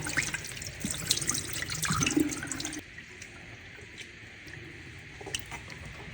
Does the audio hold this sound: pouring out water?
yes